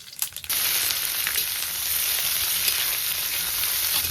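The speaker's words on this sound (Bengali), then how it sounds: "এখন আমি মাংস দেবো ফোড়নে, এই তেজপাতা দিলাম, এখন হলো গোটা জিরে আর গোটা গরম মশলা।" Meat hitting hot oil tempered with bay leaf, whole cumin and whole garam masala spices, a few clinks at first, then a loud, steady sizzle of frying that holds without a break.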